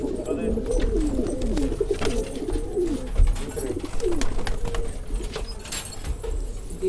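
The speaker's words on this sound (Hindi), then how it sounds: "ये तीतरा कबूतर है।" Titri pigeons coo repeatedly in soft, rolling throaty phrases, close by, over a low rumble of background noise.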